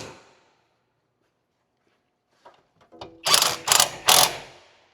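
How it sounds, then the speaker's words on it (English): An impact gun runs down the 17 mm sway bar link nuts on a 2012-2017 Toyota Camry Hybrid: after a few light metallic clinks, three short loud rattling bursts hammer in quick succession, close by. "we're going to run these down with the impact gun"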